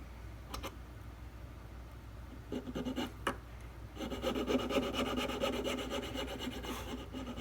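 A fine file works the G string slot of a violin nut, making close, quiet rasping strokes on wood, a few short scrapes followed by steadier back-and-forth filing.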